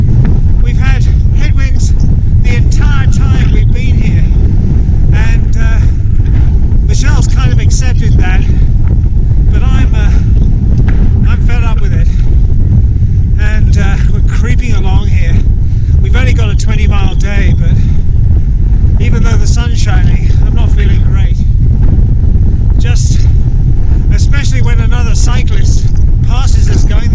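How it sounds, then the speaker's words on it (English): A strong headwind buffets the microphone aboard a boat heading for Loch Boisdale, South Uist, in the Outer Hebrides, a loud continuous roar with an engine-like rumble underneath and voices talking through it. "We're heading into a strong wind, even though the sun is shining."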